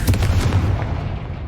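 Confringo fire spell explosions in the video game Hogwarts Legacy: a loud, booming blast with a crackling burst that rumbles and fades over about a second and a half.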